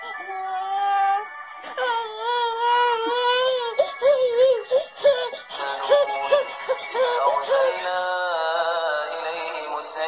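A fussy infant cries in drawn-out, wavering wails and whimpers, with Quran recitation playing nearby, fairly close and continuous.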